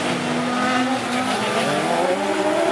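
An autocross race car at La Frenaye passes close in front, its engine note loud and sustained, with pitch shifting as it goes by amid continuous crowd-side noise.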